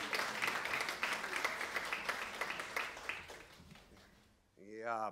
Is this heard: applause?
yes